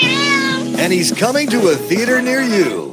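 A gray tabby cat meowing loudly and repeatedly at close range, drawn-out wavering cries overlapping with someone talking.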